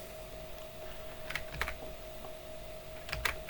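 Short, quiet bursts of clicking from fingers typing on a computer keyboard, two brief clusters of keystrokes over a faint steady hum.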